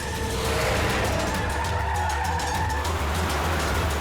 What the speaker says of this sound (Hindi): ये वैन को क्या हो गया? इतना लहरा क्यों रही है?